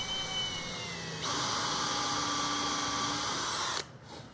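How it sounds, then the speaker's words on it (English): A cordless drill runs continuously, its motor pitch rising partway through as a screw is driven into wood, then cuts off; close and steady, no voices. "I'm going to add some screws on the bottom to sort of loosely hold it in"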